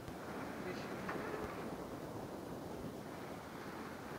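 Strong wind buffets the microphone aboard a sailboat on the Red Sea, with constant rushing wave noise around the hull, fairly faint overall and steady throughout.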